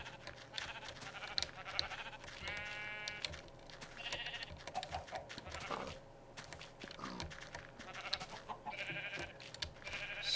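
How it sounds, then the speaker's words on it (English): Sheep in the Minecraft video game bleat several times in short, nasal calls spread across the stretch, over a steady busy backdrop of game ambience and light clicking. "Come on, sheep. Last couple need to get in there."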